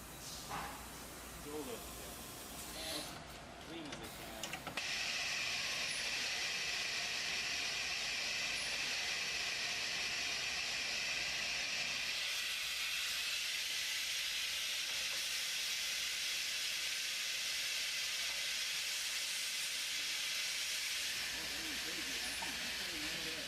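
Focused infrared welding of plastic parts with an InfraGuide machine, a loud, steady hissing rush that starts abruptly after some brief clattering and holds for most of the span, with a drop in tone partway through.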